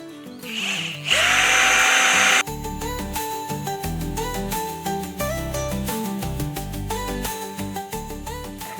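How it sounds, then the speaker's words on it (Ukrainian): An electric drill bores a hole in a battery box for a handmade wooden winter-village craft, giving one loud, close whine lasting just over a second, set against background music. "просверлимо в ньому дирочку і прикрутимо ззаді"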